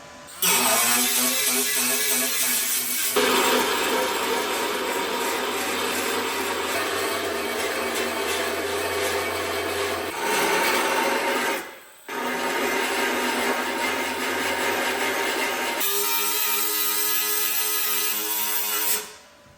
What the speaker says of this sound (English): If you guys can get yourself a belt file, doesn't have to be electric, can be pneumatic.